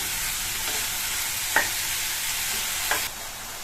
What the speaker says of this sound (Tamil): இந்த காயை ஹை ஃப்ளேம்ல வச்சு 2 நிமிஷத்துக்கு நல்லா வதக்கி விட்டுக்கணும்